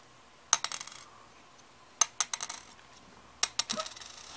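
Three US dimes from 1966, 1980 and 2015 are dropped one after another onto a hard surface, each landing with a sharp metallic clink followed by a brief bouncing, ringing rattle; close and alone.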